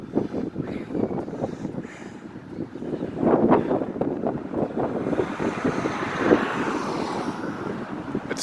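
Steady wind with bursts of gusting blows before a thunderstorm, a rough, rumbling roar with uneven surges that swells toward the middle, heard alone.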